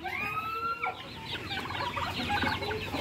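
A flock of native backyard chickens clucking and calling at feeding time on a small farm, several birds close together in busy overlapping bursts, with one long drawn-out call near the start.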